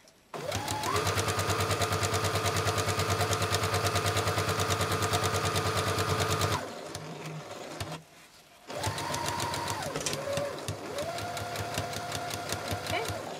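A sewing machine stitches ribbon trim onto a tutu in a fast, steady whir that runs for several seconds, stops briefly, then starts again with a slight change in speed.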